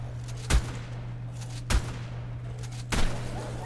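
Three shotgun blasts fire in the video game Ark: Survival Evolved, each a loud booming shot spaced about a second apart over a steady low in-game hum.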